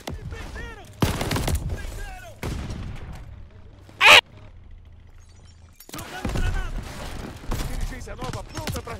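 Gunfire rings out in a Call of Duty Vanguard online match: a single sharp, loud burst of shots stands out midway, while players talk excitedly over the game sounds before and after it.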